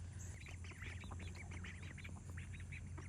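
Ducks quacking at a farm pond, a steady chatter of several birds calling close by over a low rumbling background, no talking.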